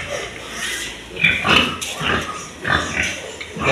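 Hampshire pigs on a pig farm grunt and snuffle in several rough bursts, fairly close, with a voice nearby.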